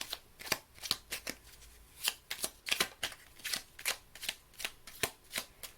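Tarot cards being shuffled by hand before a card is drawn: quiet, close riffling and flicking in a quick irregular rhythm, alone without talk.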